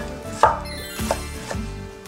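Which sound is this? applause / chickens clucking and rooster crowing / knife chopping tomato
knife chopping tomato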